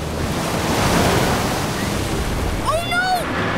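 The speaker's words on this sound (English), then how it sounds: "The waves are getting closer!" Cartoon ocean waves surge and wash in a steady, loud roar, joined near the end by a rising, wavering whistle-like effect, with no talking over it.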